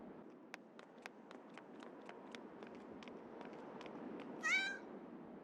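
A cat in the game Yomawari: Lost in the Dark gives a single short meow near the end, after a run of soft, regular footstep taps over quiet ambience.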